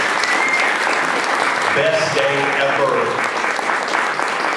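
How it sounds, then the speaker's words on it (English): Festival audience applauding filmmakers after an adaptive sports film screening: steady, loud clapping that holds throughout, with voices speaking briefly over it. "Let's give them a big round of applause for their film."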